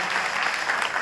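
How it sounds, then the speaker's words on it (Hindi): An audience at a public event applauds in welcome of the Prime Minister and the Chief Minister, producing a dense, steady burst of clapping from a crowd. "माननीय प्रधानमंत्री नरेंद्र मोदी जी को और हमारे प्रदेश के यशस्वी मुख्यमंत्री श्री शिवराज सिंह चौहान जी को ताली बजा के स्वागत करेंगे"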